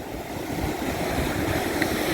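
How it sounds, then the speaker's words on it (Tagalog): Strong waves roll in at Casapsapan Beach in Casiguran, Aurora, a steady broad wash of surf blended with wind noise, fairly loud and continuous with no talking. "Lalakas talaga ng alon."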